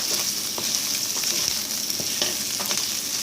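Pork and curry paste fry in hot oil with a dense, constant sizzle and crackle, with occasional light stirring taps, close and steady throughout.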